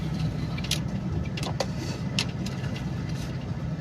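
Road traffic on a provincial route near Ligao, Albay, with a steady engine hum from close vehicles and a few brief sharp clicks and knocks over the rumble.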